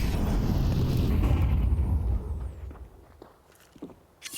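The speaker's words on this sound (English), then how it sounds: "A nice nade to start it off as Xanta gets caught for half." Grenade exploding in a Counter-Strike pro match, a heavy low rumbling blast that dominates the opening seconds, then fades into quieter game sounds with light footsteps and small clicks.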